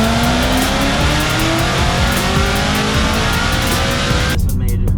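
A 1,500HP twin-turbo C8 Corvette roars loud and sustained on a dyno, its engine pitch climbing steadily through the run before cutting off abruptly near the end.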